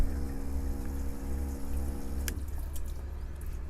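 A small tap in a custom Ford E-350 camper van's pop-out sink runs water, a soft steady trickle over a faint humming pump, then a brief splash before the flow thins.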